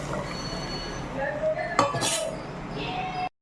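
Batter being stirred into a pan of tempered spices while cooking chutney, with scraping, clinking utensil-on-pan sounds and one sharp metallic knock midway, close and fairly quiet.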